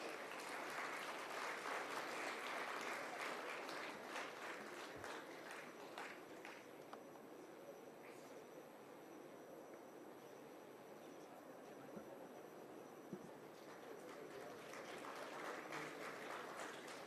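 Audience applause at a Constitution Day ceremony: sustained, dense clapping from a crowd, steady and fairly distant-sounding, with no talk over it.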